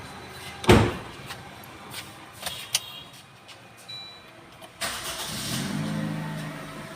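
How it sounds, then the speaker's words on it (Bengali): A 2020 Mahindra Bolero is started at a second-hand car showroom: a door thuds sharply, a few clicks and knocks follow, then the engine turns over and settles into a low steady idle. "তো গাড়িটা স্টার্ট দিয়ে দেখাচ্ছেন দাদা।"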